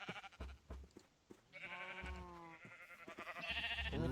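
Minecraft sheep bleating among a crowd of farm animals in a survival game, several wavering bleats overlapping with short thumps between them, fairly close and growing busier toward the end, with no speech.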